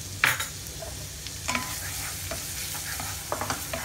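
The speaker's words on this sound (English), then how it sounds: "Our oil is nicely heated up, so add 1 tablespoon of, this is chopped ginger and garlic" Chopped ginger and garlic frying in hot oil with an even, close sizzle, broken by a few clinks and scrapes of stirring. No voices.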